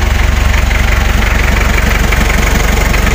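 An old Daihatsu V82RH six-wheel truck engine idles with a loud, close, rapid diesel knock, a steady pulsing chug that repeats evenly throughout with no voices.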